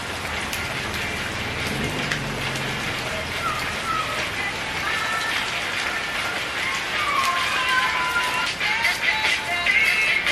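Steady rain falling outdoors at dusk, a dense even hiss of drops that swells slightly toward the end, with faint voices beneath it.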